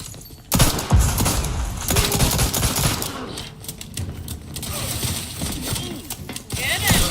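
Rapid bursts of video game gunfire crackle and thump nearly nonstop for several seconds, loud and dense, with a voice speaking over the shooting.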